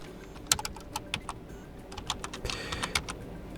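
Someone types a command on a computer keyboard on a Linux machine, a quick run of close, crisp key clicks in uneven bursts over a quiet background.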